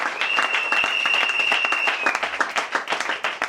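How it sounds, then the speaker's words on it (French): A church congregation applauds in a dense, lively burst of clapping that holds steady throughout, with a sustained sung or shouted tone over the first two seconds and scattered crowd noise. "Est-ce que tu peux acclamer très fort le Seigneur Jésus?"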